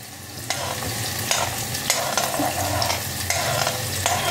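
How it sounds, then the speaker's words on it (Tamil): Mustard seeds and urad dal fry in oil over a low gas flame for a Tamil-style curry, giving a steady close sizzle with a few sharper crackles and stirring scrapes, no talk. "கடுகு வெடிச்சுட்டு உளுத்தம்பருப்பு போட்டிருக்கேன்."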